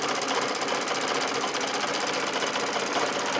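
A sewing machine free-motion quilts pebble shapes on a baby quilt with hourglass blocks, its needle running in a fast, steady, close mechanical patter throughout.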